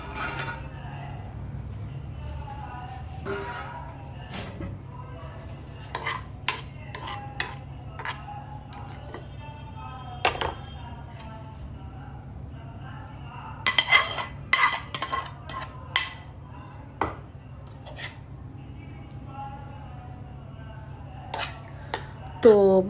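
A spoon stirs and scrapes potato patty stuffing in a metal pan over low flame, with scattered clinks and scrapes over a steady stove hum across many seconds.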